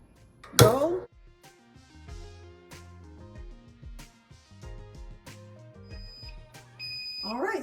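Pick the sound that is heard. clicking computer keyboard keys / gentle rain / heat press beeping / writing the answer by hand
heat press beeping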